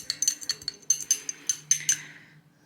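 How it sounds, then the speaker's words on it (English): A metal teaspoon stirring sugar solution in a glass, producing a quick series of bright clinks and taps against the sides, close and fairly loud, slowing and fading toward the end. "which is why I'm giving it a good stir"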